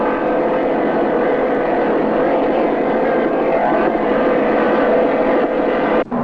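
Offshore racing powerboat engines roaring at full power on a 39-foot hull during the 1980 World Offshore Powerboat Championships, a loud, steady, continuous drone with no let-up, briefly dipping near the end.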